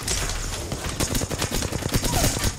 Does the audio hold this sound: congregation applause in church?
no